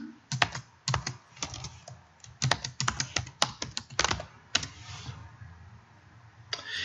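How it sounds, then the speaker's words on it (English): Keys clatter on a computer keyboard as a username and password are typed, quick clustered bursts of close, crisp clicks separated by short pauses. "you can go ahead and type in your username and password"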